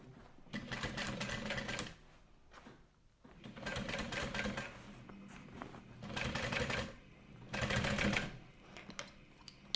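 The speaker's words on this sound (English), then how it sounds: "once again sew from the inside of the bag where the main body is against your machine" A sewing machine stitches a duffel bag in four bursts of a couple of seconds each, close and fairly quiet, with brief pauses between runs.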